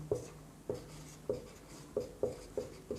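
A pen writes on paper in short scratchy strokes, about seven quiet, close taps and scrapes at a fairly regular pace, with no talking.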